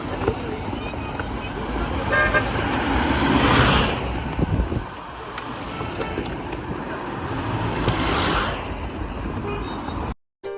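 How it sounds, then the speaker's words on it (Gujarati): Heavy road traffic passes nearby with repeated car horn toots rising over engine rumble, and voices talk faintly in the background throughout. "અહીંયા એટલી ટ્રાફિક થઈ ગઈ"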